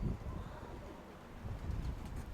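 Pigeons coo softly in a quiet outdoor setting near a hill, a low steady murmur of calls with no one speaking.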